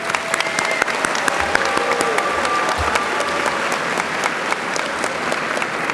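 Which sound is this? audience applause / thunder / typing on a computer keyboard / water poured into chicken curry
audience applause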